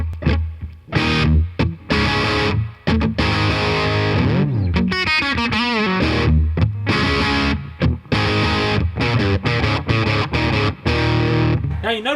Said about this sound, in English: Now I'll show you what the green channel can sound like when you get some distortion onto it.